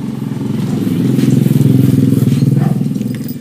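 A Honda TMX125 Alpha motorcycle converted to 175cc idles steadily up close, its single-cylinder engine thumping in a smooth, even rhythm that swells slightly and holds throughout.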